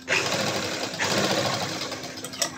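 A sewing machine runs steadily, stitching back over an existing seam on an angrakha top, with a continuous motor whir and dense needle rhythm close by for the whole stretch.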